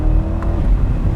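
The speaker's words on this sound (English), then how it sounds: "that V8 engine is an absolute cracker" A 2024 Chevrolet Corvette C8 Stingray 3LT with its V8 engine and the roof off, heard while cornering: a steady, loud low engine drone with a brief rising rev in the middle.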